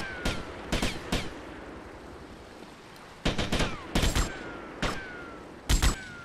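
Gunfire in the video game GTA Vice City: scattered bursts of sharp shots in irregular clusters, some doubled, crisp and fairly close over quiet background, with no talking.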